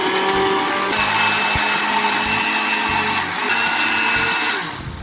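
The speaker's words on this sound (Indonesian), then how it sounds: "Oke, kita haluskan dulu." A kitchen blender grinds spice paste for beef rendang, running as a loud, steady whirring drone from start to finish with slight shifts in pitch as the paste churns.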